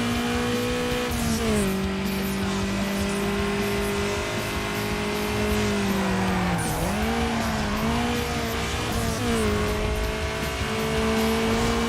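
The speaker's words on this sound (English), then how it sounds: "You lose like no speed using the handbrake, but you just corner that much better with it." A car in Need for Speed Underground corners under handbrake, its engine droning steadily while the tires squeal and skid with sweeping pitch shifts, loud and continuous with no talking.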